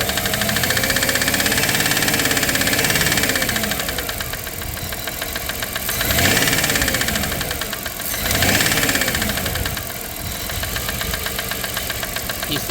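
A 1997 Dodge Caravan LE engine idling steadily after rod and main bearing work, with a faint ticking knock and a PCV valve working; the running sound swells briefly twice midway, close and continuous.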